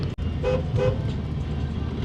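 A Mazda Miata's horn gives two short honks over steady road and engine rumble, echoing inside a one-lane tunnel.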